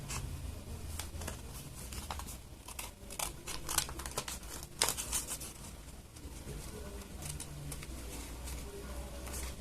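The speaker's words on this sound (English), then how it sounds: "while you're cutting the nose, cut out the eyes as well, starting right from the nose" Paper being cut and crinkled while eye holes are snipped into a paper mask, with close, irregular snips, rustles and crinkles over a low background hum.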